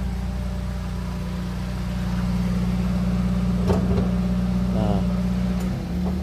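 A 2010 Daihatsu Sirion's 1300 cc 16-valve twin cam engine idles with a steady low hum. Someone speaks briefly over it near the start, and a few light clicks and rattles come through.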